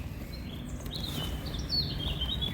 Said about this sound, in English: the birds are really happy this morning